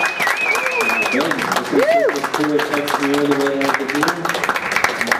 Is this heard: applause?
yes